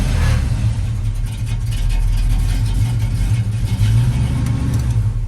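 A carbureted Monte Carlo SS V8 idles close by with a deep, loud, steady rumble, its uneven lope slightly rising and falling throughout, heard alone without talk.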